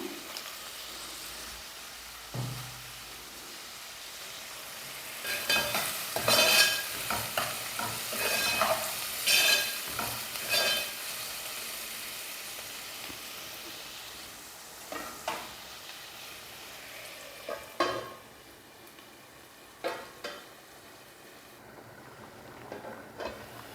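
Salted onions fry in a pan for a dry prawn and brinjal curry, with a spoon stirring and scraping in bursts over a low, steady sizzle, close by and without speech.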